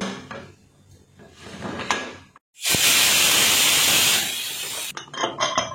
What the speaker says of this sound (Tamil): குக்கர் மூடி ஒரு 2 விசில் மட்டும் விட்டுட்டு அதுக்கப்புறம் ஸ்டீம் எல்லாம் அடங்கினதும்